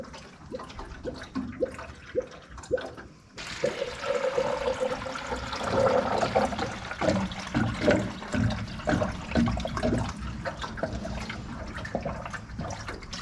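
Coolant gurgles and splashes into the Ford 302 engine of a 1968 Chevy C10, heard close and fairly quiet. Irregular bubbling glugs start as scattered pulses and then become a continuous watery churn.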